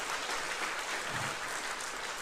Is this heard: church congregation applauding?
yes